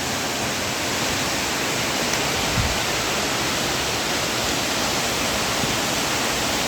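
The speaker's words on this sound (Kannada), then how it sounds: "ನೀರು ರಭಸದಲ್ಲಿ ಹರಿತಾ ಇದೆ" A mountain waterfall in the Uttarakhand wilderness near Madhyamaheshwar, water pouring forcefully as a dense, steady roar that fills the whole span without change.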